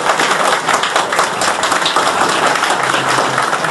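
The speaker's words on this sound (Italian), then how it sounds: "Facciamogli un applauso a tutti quelli che lavorano" A crowd at an indoor inauguration of a new Europol branch office applauds steadily, a dense, even wash of many hands clapping for several seconds without pause or speech.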